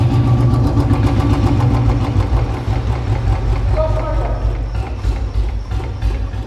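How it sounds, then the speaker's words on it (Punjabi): A Royal Enfield Bullet 350 engine idles after a fix for its ticking noise, a loud steady low thumping beat running throughout, close up, with someone talking over it. "ਹੁਣ ਤੁਹਾਨੂੰ ਇੰਜਨ ਦੀ ਆਵਾਜ਼ ਚੈੱਕ ਕਰਾਉਂਦੇ ਆ ਇਹਦੀ"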